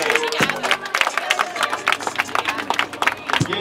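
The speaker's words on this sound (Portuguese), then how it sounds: "Palmas, palmas pra batalha" A crowd at a Brazilian freestyle rap battle claps in quick, uneven bursts with some cheering, close and lively over a short stretch with faint voices mixed in.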